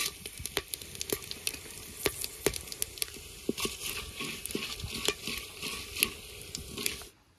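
Whole garam masala sizzles in hot mustard oil in a clay pot: cloves, cinnamon, cardamom, peppercorns, bay leaf and cumin. Crackles and sharp pops sound close and dense, with stirring scrapes, then stop abruptly at the end.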